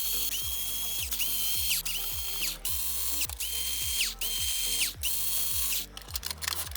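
A power driver with a ratcheting clutch backs out the cover screws on an HP M830 printer in a steady run of close, loud whirring bursts, each ending in a sharp falling whine, with brief pauses between screws.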